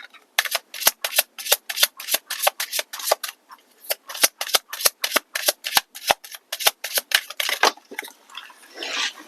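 Tarot cards shuffled and pulled from a deck: a quick, rhythmic run of crisp papery flicks and slaps, close and distinct, with a softer rustle at the end.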